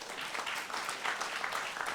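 Audience applauding at a political talk event, a dense steady wash of many hands clapping together for the full two seconds, moderately loud with no speech.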